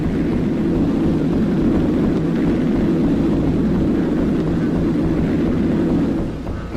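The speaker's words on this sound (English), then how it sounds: "Carriers, lying back of the main fleet, sent in hundreds of bombers." WWII bombers launched from carriers fly over Iwo Jima in a wartime newsreel, giving a loud, steady, continuous engine drone with a thick low rumble that barely varies and eases slightly at the very end.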